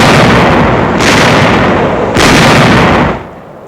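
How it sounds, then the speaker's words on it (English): A heavy artillery barrage pounds Corregidor in a 1945 wartime newsreel, loud rolling blasts in two or three overlapping surges that fill the sound before dropping away abruptly near the end. "A heavy artillery barrage prepares the way for the infantry advance."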